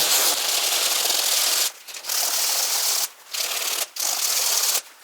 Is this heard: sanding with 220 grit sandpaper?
yes